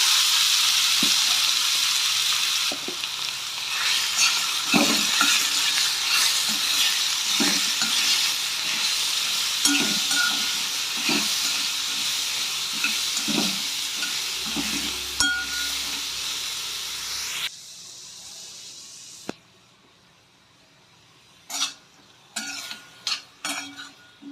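Masala-marinated prawns frying in a pan, a crackling sizzle with regular stirring knocks against the pan, fading to quieter clinks of utensils near the end.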